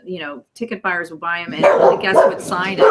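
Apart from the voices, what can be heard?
dog barking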